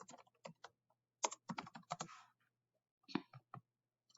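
Someone types on a computer keyboard in a quiet room, tapping out a few short, irregular bursts of crisp keystrokes with brief silences in between.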